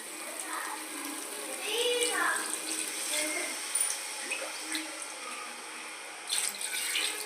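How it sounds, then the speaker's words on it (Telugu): Water is poured into a pot of rice for a gongura chicken biryani, a soft splashing gush with uneven surges. A faint voice can be heard in the background. "4 గ్లాసులు నీళ్ళు పోసానండి"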